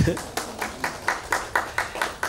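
Steady rhythmic clapping from an audience at a nominees reception, about four claps per second, fairly close and even, with no voices over it.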